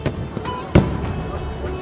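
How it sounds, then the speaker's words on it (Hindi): Fireworks burst over the sands across the Ganges at Varanasi during a Dev Deepawali celebration, with one strong close boom among softer crackling pops over a steady crowd-like background. "चेरसिंह घाट पर 3D लेजर शो और गंगा पार रेत पर हुई भव्य आतिशबाजी ने कार्यक्रम को और भी मनमोहक बना दिया।"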